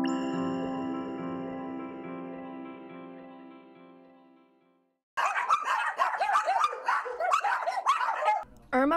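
At a rescue dog boarding and grooming kennel, several dogs bark and yip in quick overlapping bursts, close and loud, after a stretch of sustained music fades out.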